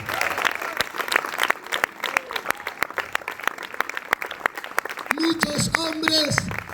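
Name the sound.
congregation applauding in church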